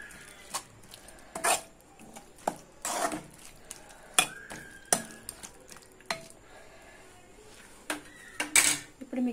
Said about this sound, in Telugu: దోసకాయ ముక్కలు వేసిన తర్వాత ఇలా కలుపుకోవాలి.